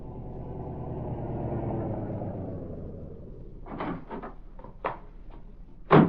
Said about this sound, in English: A short time later, a car drew up before the entrance.